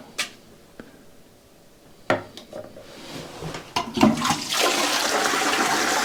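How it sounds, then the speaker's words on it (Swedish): Home toilet flushing after a removed wasp nest is dropped in, starting with a few clicks and clatters, then a loud rising rush of water that continues steadily to the end. "Nu spolar jag ner, det här är toan."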